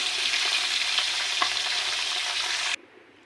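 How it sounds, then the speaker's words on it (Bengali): Fish frying in hot oil gives a loud, dense, steady sizzle close by that cuts off abruptly just before the end, leaving near silence. "মাছগুলোকে আমি আমার পছন্দ মতন ভেজে নিয়েছি"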